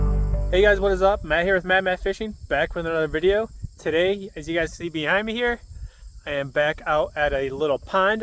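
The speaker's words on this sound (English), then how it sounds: "You know, we've had the Cicada hatch this year in Illinois. I'm sure you guys can hear them behind me." Cicadas buzz at an Illinois pond during a cicada hatch, a faint, steady high drone in the background while someone talks close to the microphone.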